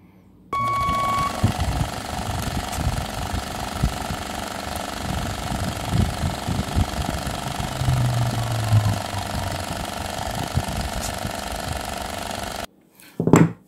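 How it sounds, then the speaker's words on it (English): Sides of a crab snare bait cage being trimmed and smoothed, a continuous harsh, gritty mechanical noise with irregular scraping bursts running steadily for about twelve seconds before cutting off abruptly. "I'm gonna trim all the sides to get it to smooth out and without having any excess parts on it"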